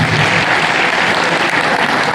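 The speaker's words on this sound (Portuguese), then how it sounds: "Uma salva de palmas para Simone." A burst of enthusiastic applause at a municipal culture council election event in São Luís, Brazil, many hands clapping densely and loudly throughout, with no speech over it.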